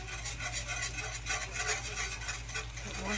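A whisk scrapes and stirs flour in a pan for smothered pork chops, a steady close rubbing with a low hum in the background.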